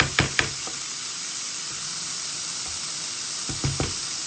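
Frozen peas and carrots sizzle steadily in a pan for pork fried rice, a continuous hiss with a few sharp knocks of a utensil near the start and end.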